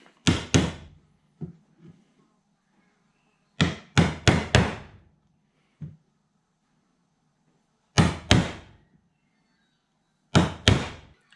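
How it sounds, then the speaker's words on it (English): A chisel is struck while cutting a square mortise in 80-year-old timber, giving sharp wooden knocks in clusters of two to three blows separated by pauses, close and clear. "So you get a chisel."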